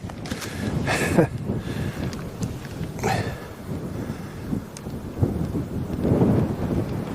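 Steady, rumbling gusts of wind buffet the microphone throughout, with a few sharp bursts of louder noise.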